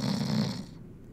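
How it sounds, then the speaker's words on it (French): A snoring sound effect within a French audiobook, a single near, loud rasping snore that fades out over about a second. "le ronflement régulier du ministre des États-Unis"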